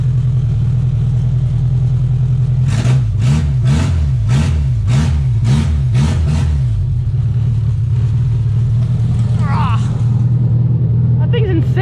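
Opel engine fitted with headers and a glasspack exhaust, idling with a deep rumble and then revved in about eight sharp rhythmic bursts, loud and close, before settling back to idle while voices react near the end.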